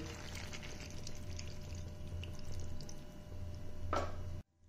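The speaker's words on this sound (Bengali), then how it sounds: "এরপর আমি জল দিয়ে দেব।" Water is poured into a pan of sautéed vegetables for chicken stew, a soft liquid splash over background kitchen noise, with a sharper pour burst just before it cuts off.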